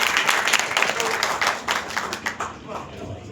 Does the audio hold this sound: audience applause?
yes